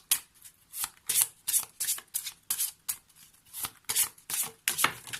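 Oracle cards are shuffled by hand in a steady run of crisp, rapid riffling bursts, close and fairly quiet, with no voices.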